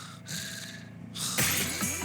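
A voice imitates the heavy breathing of a caller on a phone, with a few breathy gasps and snorts that come in loud, close bursts.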